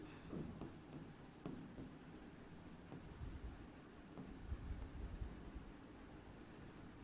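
Chalk or marker taps and scratches on a board during a class 10 chemistry lesson on coordinate bonds. Faint, sporadic strokes with a few clicks spread over several seconds in a quiet room.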